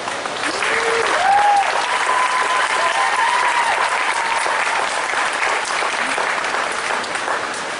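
Sustained audience applause for the Gaylord stars at a 2017 ICE! holiday events reveal presentation, with dense steady clapping filling the room and a brief whoop or whistle rising near the start.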